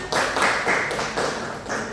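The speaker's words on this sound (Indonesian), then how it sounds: "Beri tepuk tangan" A classroom of students claps for a classmate's correct answer, a short burst of fairly rhythmic, close group clapping with a few distinct beats.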